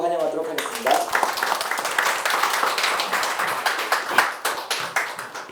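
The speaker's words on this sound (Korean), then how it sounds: "박수로 환영하도록 하겠습니다." A lecture audience claps warmly to welcome a speaker, a dense patter of many hands that builds quickly and keeps going steadily throughout.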